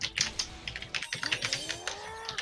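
Rapid clicking of someone typing on a computer keyboard during a late-night online gaming session, a dense run of close, crisp keystrokes heard alone without talk.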